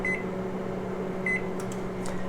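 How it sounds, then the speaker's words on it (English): A combination microwave oven being set to 375 degrees for 11 minutes, with a steady running hum under two short high beeps and a few light button clicks near the end. "on this oven I'm going to push the combination setting, and I need to change the temperature to 375 and then put in 11 minutes"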